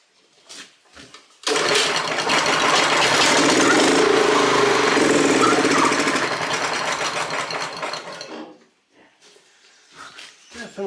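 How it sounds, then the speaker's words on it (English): The engine of a neglected Honda F810 rotavator runs with its throttle opened up, a loud, close, rough mechanical clatter that holds steady for several seconds and then drops away, with brief quieter noises before and after. "Open the throttle up a bit."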